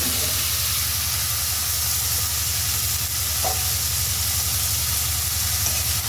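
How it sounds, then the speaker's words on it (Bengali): Jackfruit seeds and potatoes go into spiced masala frying in a pan, which gives a steady, even sizzle and hiss over a low hum, with a faint clink partway through. "এটার মধ্যে এখন কাঁঠালের বিচি আর আলু আর কাঁঠালের বিচি দিয়ে দেব।"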